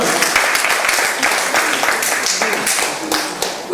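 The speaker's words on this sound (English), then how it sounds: "please applaud" Audience applause at a ministerial briefing on commerce and industry, dense steady clapping throughout, fairly loud and close, with voices mixed in.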